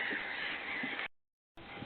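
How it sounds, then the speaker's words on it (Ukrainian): Seagulls crying by the Styr river, harsh raucous calls in a continuous burst, a short gap, then more calling, fairly close and without talk. "что еще чайки кричать? Воно их миллион там."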